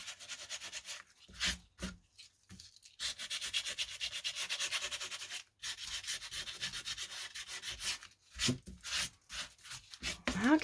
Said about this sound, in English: I'm going to take some sandpaper and just kind of rough that up along the edges